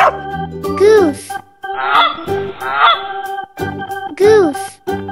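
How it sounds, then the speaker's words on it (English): Several loud, nasal goose honks come in quick bursts over a cheerful musical accompaniment. "Goose."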